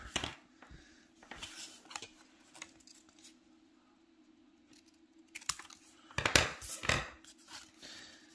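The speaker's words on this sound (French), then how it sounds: "il ne me reste plus qu'à couper du coup l'excédent après mes 4 plis" Scissors cutting off excess origami paper, a series of short crisp snips and paper rustles close by, scattered irregularly over a faint steady background hum.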